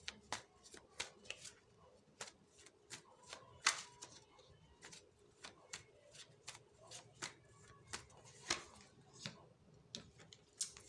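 Tarot cards are shuffled and handled in a quiet room, giving a steady stream of soft, crisp snaps and flicks in an irregular rhythm close to the listener.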